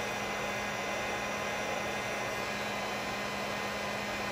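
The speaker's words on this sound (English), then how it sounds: "I am blowing 900 degrees at this thing, so it should soften this solder up" A heat gun blows hot air at 900 degrees onto a soldered copper fitting, a steady, close, roaring whoosh with a faint electrical hum underneath, unchanging and alone.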